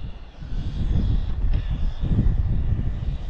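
A JJRC Q117 RC car on a 3S battery runs at full throttle, its electric motor giving a loud, steady, droning whine that swells and holds for the whole stretch.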